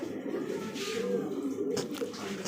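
Toy Lahori pigeons cooing close by, a low, continuous throaty warble held for a couple of seconds, with a short rustle near the end.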